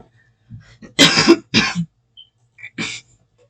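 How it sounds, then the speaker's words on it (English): Several harsh, loud coughs sound close by, a cluster of two bursts followed by a shorter single cough after a pause. "cough was crazy."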